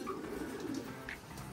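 Soft, low pigeon coos repeat a few times close by, quiet against a faint background hiss.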